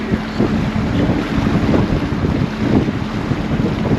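A fishing boat runs under a Parsun F130 outboard motor at low throttle, a steady close engine drone mixed with rushing water and heavy wind buffeting the microphone, with no talking.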